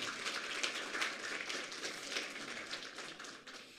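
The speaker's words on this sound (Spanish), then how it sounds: "Vamos a dar una vez más, por favor, fuertes aplausos" Sustained broadband clapping from a congregation at a Sunday church service, steady and dense throughout with no voices over it.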